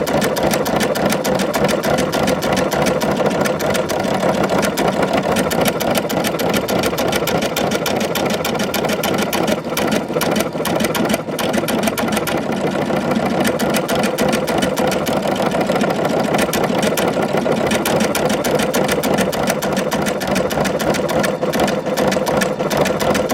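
A Brother Innovis NV1800Q computerized sewing machine stitches steadily at speed, a continuous rapid mechanical whirring and needle chatter running uninterrupted close to the mic.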